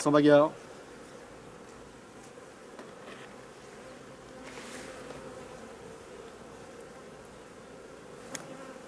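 Honeybees buzz in a low, steady drone around a small nucleus hive box, with the colonies being merged through newspaper. A brief louder sound opens the stretch, then the faint hum continues unbroken.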